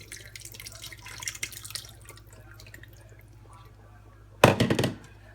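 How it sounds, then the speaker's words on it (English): A mixture of salsa, water and lemon juice is poured into a cooking pot for shrimp creole: faint drips and small splashes, then a short, louder wet pour near the end. "Now I have my salsa, water, and lemon juice in here mixed all together. We're going to add in the pot."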